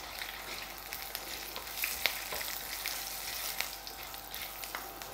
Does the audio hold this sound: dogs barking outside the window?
no